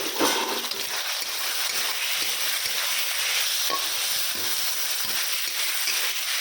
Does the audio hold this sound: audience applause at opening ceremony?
no